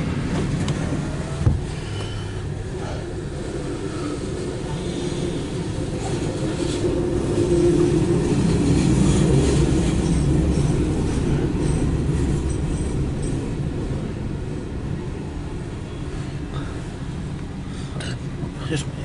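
A CSX mixed freight train rumbles past with a steady low roll of cars and wheels that swells toward the middle and fades slightly, while people talk nearby.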